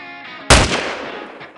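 One loud, close gunshot cracks out in the video game Rainbow Six Siege over a low steady hum, leaving a short fading tail.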